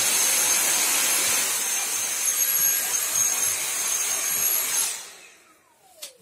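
A Dyson V7 cordless stick vacuum with a crevice nozzle whines loudly and steadily with a high-pitched airy roar, then is switched off and spins down to quiet, ending with a small click.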